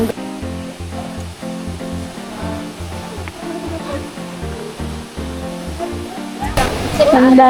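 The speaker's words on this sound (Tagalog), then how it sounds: "Isang falls. Wow! Ayun siya." A waterfall's steady broadband rush plays beneath a looping, rhythmic music track, growing louder and brighter near the end.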